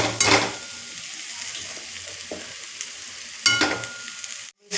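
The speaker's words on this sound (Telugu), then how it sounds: "కొంచెం ఫ్రై చేసుకోవాలి." Ginger sizzles and fries in a pan with onion paste, stirring bursts near the start and again toward the end over a steady hiss, no voices.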